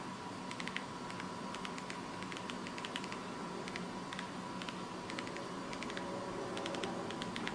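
Keys being pressed on a computer keyboard while typing emails, a string of light, quick clicks in irregular bursts over a steady background hiss, with no voices.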